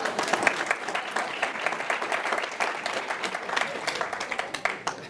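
Applause from the audience at the Sedona mayor's State of the City Address, a steady patter of many hands clapping at close range, fairly loud and sustained, with no speech over it.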